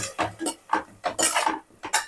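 A spoon scrapes and clacks around a pot of mint rice as it is mixed, in quick repeated strokes with short gaps, close and fairly loud with no voices.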